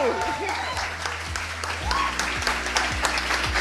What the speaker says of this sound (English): Guys, claps.